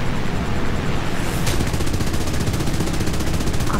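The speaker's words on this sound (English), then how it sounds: "It's the flurry of bullets." Dense, continuous video-game gunfire, a loud sustained flurry of rapid shots with a sharp burst partway through, no voices.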